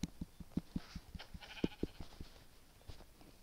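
A sheep in the video game Minecraft bleats in a quick, stuttering run of short pulses, close and fairly loud, with no talking.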